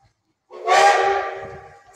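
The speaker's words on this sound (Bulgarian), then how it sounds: "Свирката." A steam train whistle blows on a heritage steam run between Vakarel and Sofia, one long sustained loud blast that swells, then slowly fades, with faint low rumble beneath.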